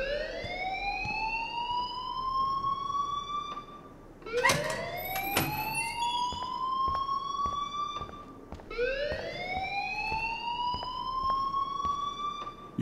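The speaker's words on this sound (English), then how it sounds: "please turn off that alarm since that's your job" Rising, wailing fire alarm in the video game Life is Strange, three loud sweeping cycles that climb in pitch and cut off, punctuated by sharp bright clangs in the middle.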